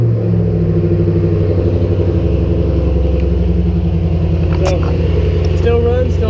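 A Ford Mustang engine fitted with a roll cage rumbles loudly and steadily at idle close by, with a deep pulsing throb, and a few brief clicks and a voice appear near the end.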